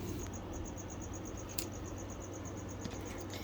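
A cricket chirps steadily in a reptile enclosure, a fast, repeated high trill heard close over low background hum, with a few faint clicks and no voices.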